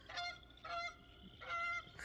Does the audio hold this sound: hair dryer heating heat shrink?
no